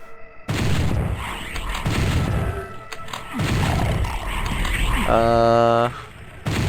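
Mancubi firing in Doom 64, booming roars and heavy blasts that come in bursts with brief gaps and a closing electronic whine, under a commentator's talk.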